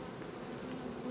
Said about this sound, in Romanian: și aici se văd acele albine negre care vin în atac